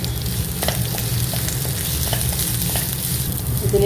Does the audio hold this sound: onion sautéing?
yes